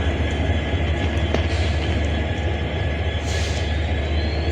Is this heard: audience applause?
no